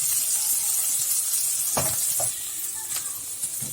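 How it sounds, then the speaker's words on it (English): Garlic cloves, ginger and onion fry in a pan with a steady close sizzle and hiss, broken by a few soft stirring scrapes and knocks. "6 to 7 garlic cloves and half inch of ginger and 1 medium size onion to it. We will fry it till golden brown."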